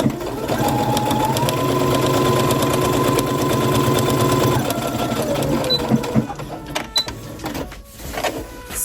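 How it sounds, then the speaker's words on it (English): A sewing machine stitches the elastic tunnel of a blouse sleeve shut, a steady close motor whir with rapid needle rhythm for several seconds before slowing and stopping into a few clicks and handling noises. "I sew the tunnel shut"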